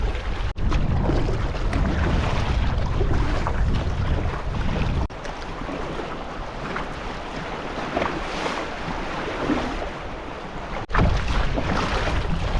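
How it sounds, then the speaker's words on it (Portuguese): Wind roars steadily while kayaking across an open bay with small waves, a continuous loud broadband rush with buffeting on the microphone and two brief dips before the gusts swell back. "e o vento tá entrando direto aqui"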